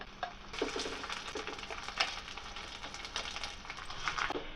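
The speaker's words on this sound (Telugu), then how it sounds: "ఈ పుదీనా పచ్చడిలో ఈ పోపు బాగా కలిసేలాగా ఈ విధంగా కలుపుకోవాలి" Ground mint and coriander chutney is stirred into a hot fried tempering in a pan, making a quiet, steady sizzle with light scraping and spoon clicks throughout.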